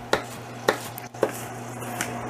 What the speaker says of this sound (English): You just keep chopping until it's super, super small.